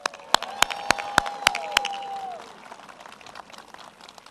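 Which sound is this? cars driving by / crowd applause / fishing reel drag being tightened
crowd applause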